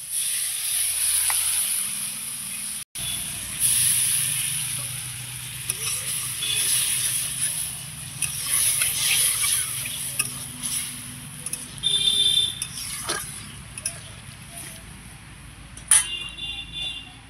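Water poured into a hot pan of sautéed vegetables, setting off a loud hissing sizzle that continues with crackles and a few sharp clatters from the pan, no voices.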